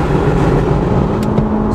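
Toyota Camry and Mazda 6 racing side by side, a steady loud engine drone with road roar held throughout, with no voices present.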